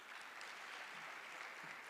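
An event audience applauds steadily, a dense, even wash of many hands clapping at a distant, fairly quiet level with no pauses.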